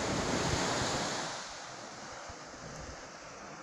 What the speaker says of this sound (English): watching the sea.